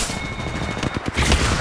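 Rapid gunfire bursts from the Apex Legends video game, dense and continuous across the moment with a heavier boom toward the end, loud and close in the game mix.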